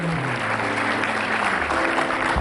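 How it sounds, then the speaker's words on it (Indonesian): A studio audience at an Indonesian comedy talk show claps in a thick, even burst of applause, loud and sustained, with a low musical hum underneath. "Ya, tepuk tangan sekali lagi."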